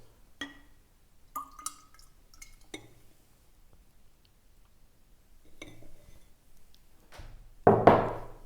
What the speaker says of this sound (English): we throw everything in the cream whipper. Starting with our 4 egg whites.